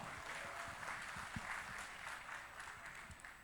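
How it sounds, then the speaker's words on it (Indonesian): An audience at an event applauds the host, a faint, distant, continuous patter of many hands clapping evenly throughout. "Tepuk tangan buat Kang Farhan"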